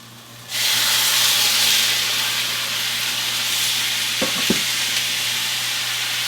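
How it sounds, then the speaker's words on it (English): Tomatoes hit a pan of fried seasoning for Aleppo pepper shakshuka, bursting into a loud, close sizzle after half a second of quiet, then a sustained hiss with two quick utensil knocks near the end. "Now I'm going to add the tomatoes."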